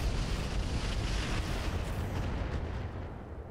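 Mech weapons firing in Roguetech, a BattleTech game, a loud rumbling roar of blasts and explosions that stays dense for a few seconds before slowly fading, with no talk.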